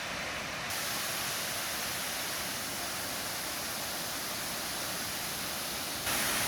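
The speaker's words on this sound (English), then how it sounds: "A little example of the meltwater coming down finally." Winter meltwater rushes down a stream in a steady, broadband hiss of flowing water, continuous and moderately distant, with no voices.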